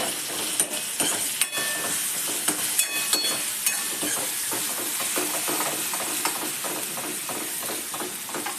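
Onions and spice paste frying in a pan for a mung dal dish, a steady close sizzle and hiss with occasional scrapes and stirring clicks, no voices.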